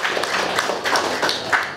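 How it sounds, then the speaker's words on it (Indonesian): Applause from an audience at an outdoor people's stage event greets the performer Andi: a dense, steady wash of clapping that holds for under two seconds, fairly close, with no voice over it. "Tepuk tangan buat Andi"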